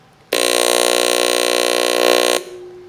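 A ticker timer driven by 60 hertz mains current buzzes loudly and steadily for about two seconds, a harsh electrical hum that starts and stops abruptly, with no talking.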